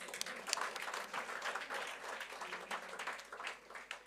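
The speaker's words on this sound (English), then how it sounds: "Let's give Prof. Songa another round of applause" A room of diners claps at a gala dinner of an environmental sustainability conference, continuous full applause with no pause, fairly close and even in loudness throughout.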